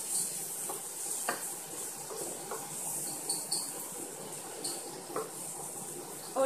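Chopped tomatoes with turmeric stir-fried in a pan, giving a soft continuous sizzle and hiss with occasional light scrapes and taps of a spoon, fairly quiet and close with no talking.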